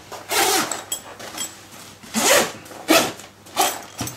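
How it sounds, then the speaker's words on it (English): A Royd bike bag being zipped shut, several quick rasping zipper pulls in bursts of about half a second each, close and fairly loud with no talking. "you remove everything from the pack and you zip it up"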